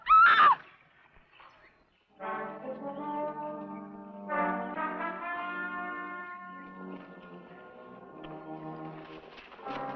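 A horse in a classic Western TV episode gives a short, sharp whinny at the start, followed by long sustained tonal sounds that carry on through the rest.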